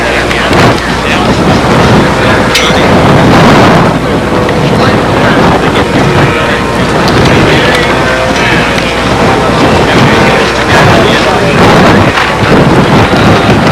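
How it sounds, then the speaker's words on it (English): Gusty wind roars steadily across an outdoor RC scale model event at the 2001 Nationals, a dense, continuous broadband rush buffeting the microphone throughout with no pauses. "Really getting breezy here too. It was breezy to begin with, and it's getting breezier."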